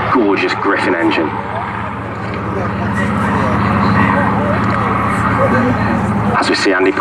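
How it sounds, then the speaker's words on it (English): A loud Rolls-Royce Griffon piston aircraft engine drones and roars steadily nearby during a Battle of Britain Memorial Flight display at Southport Airshow 2019, with a person talking over it at times. "there's the sound of that gorgeous Griffin engine"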